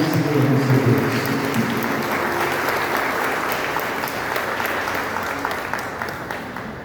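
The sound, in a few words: church congregation applauding to welcome the pastor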